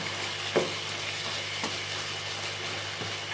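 Chicken for biryani fries and sizzles steadily in a pan, with a few soft scrapes of the spoon as it is stirred; no one speaks.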